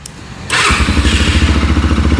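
A CFMoto motorcycle engine starts up at close range and settles into a loud, steady running note with a regular pulsing rhythm.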